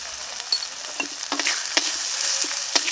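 Ground spices, Kashmiri chilli powder, salt and turmeric, sizzle steadily in a pan for rohu fish kalia, with sharp scrapes of a spatula stirring through them at irregular moments, close and fairly loud.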